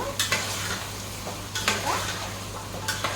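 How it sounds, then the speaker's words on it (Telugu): Large chunks of onion and carrot with ginger-garlic paste are stirred in a hot pot, with several scraping strokes of a utensil over a continuous close sizzle of frying. "నేను కూడా బాగా కలుపుతున్నాను"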